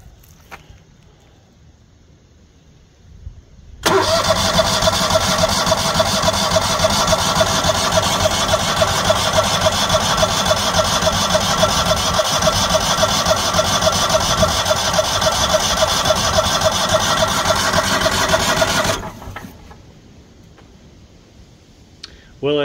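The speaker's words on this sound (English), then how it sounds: "I'd like to say that the generator started right up and ran as expected. However, that wasn't the case. It just cranked and cranked and cranked." A new Kohler standby generator cranking without starting: after quiet background, the starter grinds steadily for about fifteen seconds with a fast, even pulsing whir, then cuts off abruptly, leaving near-silence again.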